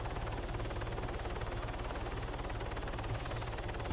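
An Arma helicopter flies nearby, its rotor thumping in a fast, even beat over a loud engine whine that holds steady throughout, with no one talking.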